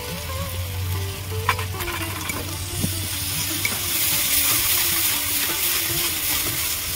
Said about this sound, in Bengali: এটা ভাজতে ভাজতে তেল ছাড়বে, ততক্ষণ আমি ভাজতে থাকবো